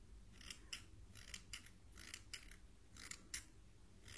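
Metal scissors snip close to the microphone in a soft-spoken ASMR ear surgery roleplay, about eight crisp, quiet cuts in an uneven rhythm, no talk.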